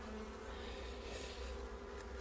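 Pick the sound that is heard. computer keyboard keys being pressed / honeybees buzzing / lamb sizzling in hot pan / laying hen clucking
honeybees buzzing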